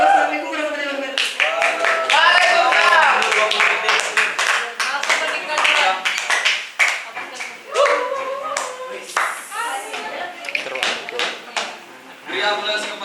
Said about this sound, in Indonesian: Beri aplaus kepada tim kontra.